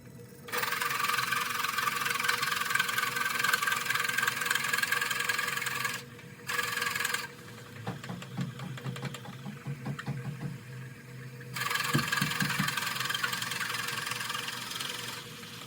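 A wood lathe rough turns a wet, green 13x5 camphor bowl blank, giving a loud, steady tearing whir that drops out briefly, turns to a lower rhythmic chatter for a few seconds, then resumes at full strength.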